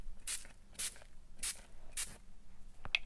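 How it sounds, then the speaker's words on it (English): Four short, bright bursts of a Distress Oxide spray nozzle hiss in an even rhythm, close and fairly quiet, followed by a faint click. "I'm going to attempt distress spraying some things."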